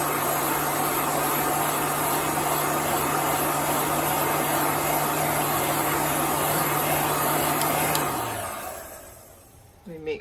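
A hair dryer or heat blower dries a chalk transfer on a craft piece with a loud steady whoosh and hum that winds down and cuts off near the end.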